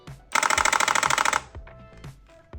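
Enforcer haptic toy pistol firing in full auto, a rapid even burst of about a dozen sharp mechanical clacks lasting roughly a second, followed by a few faint clicks.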